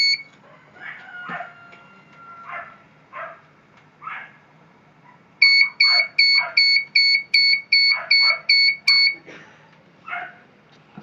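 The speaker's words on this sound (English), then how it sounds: "That's probably an alarm" A solar off-grid inverter on power-up, a 48V 6kW low-frequency unit being repaired after a burned power supply, sounds a loud, steady train of about ten electronic alarm beeps. Softer background noises and barking-like sounds come before the beeps.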